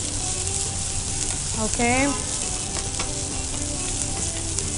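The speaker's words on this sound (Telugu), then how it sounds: "పసుపు అల్లం వెల్లుల్లి పేస్ట్ వేసుకున్నాం కాబట్టి దాంట్లో ఉన్న పచ్చి వాసన అంతా పోయేంత వరకు జస్ట్ ఫ్రై చేసుకునే సరిపోతుంది" Ginger garlic paste and turmeric fry in a pan for a mutton tomato curry, a steady close sizzle with stirring, while a voice briefly speaks over it.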